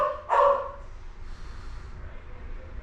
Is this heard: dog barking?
yes